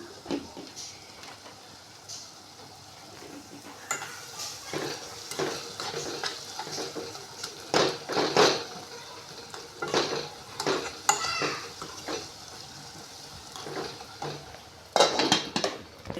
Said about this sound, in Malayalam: ചെറിയ ഉള്ളിയും കൂടെ ചതച്ചത് ഇതിലോട്ടൊന്ന് ഇട്ട് വഴറ്റിക്കൊടുക്കും.